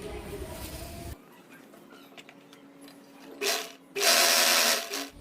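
A sewing machine stitches a dress top. A voice talks over low background at first, then the machine whirs in two short, loud, close runs of fast stitching, with a brief pause between them.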